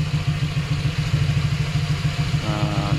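Honda Click scooter fitted with an Apido Pipe V3 exhaust, idling with a throbbing, pulsing low rumble and slight clatter, steady and close, alone without voices.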